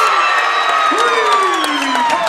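A high school girls' varsity basketball crowd cheers and whoops after a three-pointer, a loud sustained roar in the gym with a commentator talking over it.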